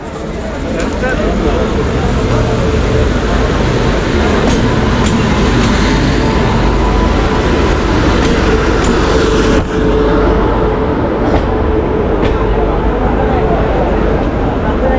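Loud, continuous rumble and rattle of a train arriving at a crowded station platform at night, with rhythmic clatter, nearby, while people talk over the noise.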